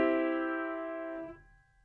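A sustained piano chord with all notes struck together, ringing loud and steady before fading out after about a second and a half, with no other sounds.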